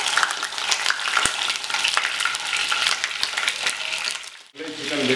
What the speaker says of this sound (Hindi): इसमें डालेंगे ये चिकन।